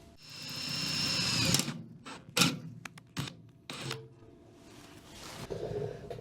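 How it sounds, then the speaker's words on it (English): A small electric drill with a tiny bit drills metal, whirring in short high-pitched bursts, starting and stopping several times with a brief grinding burst in between, close and fairly loud. "And then I am going to take a drill with a tiny"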